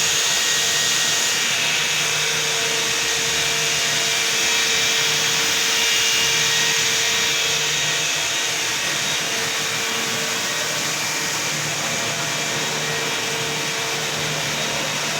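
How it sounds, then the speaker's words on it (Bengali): A high-speed circular knitting machine producing single jersey fabric in a factory fills the space with a loud, continuous mechanical roar and hiss, steady and unbroken throughout with no voices. "এই মেশিনটা হাই স্পিডে চলে এবং এই মেশিনে সিঙ্গেল চাষি কাপড় তৈরি হচ্ছে।"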